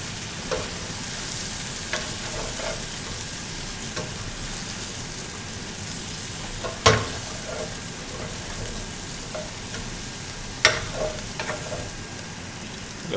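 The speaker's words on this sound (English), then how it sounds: "I'm going to stir it up" Apples frying in a skillet with cinnamon being stirred in: a steady close sizzle throughout, broken by a few sharp scraping and clacking strokes of the stirring utensil against the pan.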